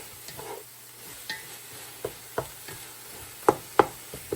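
Vegetables cook down in a pot, giving a faint steady sizzle with scattered stirring scrapes and a few sharp knocks of a utensil against the pot, growing more frequent toward the end.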